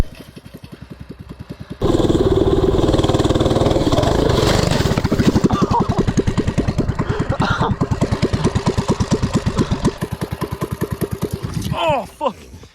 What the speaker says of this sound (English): that's a steep hill for that little bike